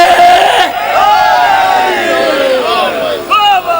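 A crowd at a majlis in Lahore shouts a slogan together in loud, close, chanted bursts that swell and break off, with one voice rising above near the end.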